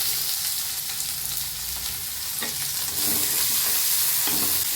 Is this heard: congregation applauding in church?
no